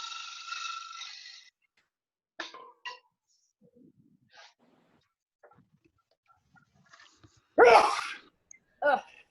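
A single sharp sneeze from sawdust blowing off a wood bowl being turned on a lathe, close and loud, following faint workshop noises and a brief quiet hum.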